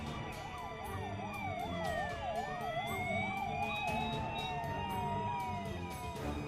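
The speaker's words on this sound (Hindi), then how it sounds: "सायरन बजाती हुई पहुंचती है।" A police siren wails in a fast rising and falling pattern on a congested highway, with a steady traffic rumble underneath and a faint background voice.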